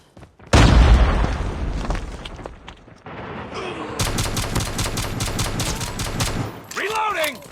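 Call of Duty Mobile battle: a loud frag grenade blast followed by bursts of rapid gunfire, close and sharp, with in-game voice callouts mixed in.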